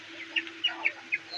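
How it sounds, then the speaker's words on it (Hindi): Desi Aseel roosters and hens on a village farm cluck in a few short, scattered calls, moderately close over a low steady background hum. "देसी असील मुर्गे यहाँ पर दस्तयाब हैं"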